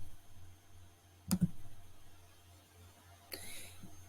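Two close computer mouse clicks sound faintly over a steady low hum, followed by a soft rustle a couple of seconds later.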